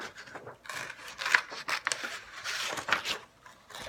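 Scissors snip through coloured paper to cut flower shapes for Matisse-style cutouts, a rapid run of crisp, close cuts and rustles with no talking.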